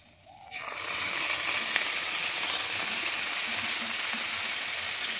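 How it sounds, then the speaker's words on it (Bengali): Yogurt goes into a hot pan for a potol curry and breaks into a loud, continuous sizzle that keeps going steadily with no talking. "এবারে আমি দিয়ে দিচ্ছি দই।"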